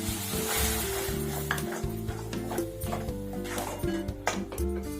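Two tomatoes sizzle and fry in a pan for a Mithila-style cauliflower and dried-dumpling curry, with a steady hiss under occasional stirring scrapes and clinks, fairly close and continuous.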